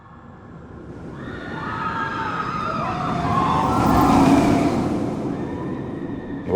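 A mine cart rolls into a tunnel, heard from the entrance as a rising metallic screech and rumble that swells to a loud peak and then eases off, with squealing tones sliding in pitch.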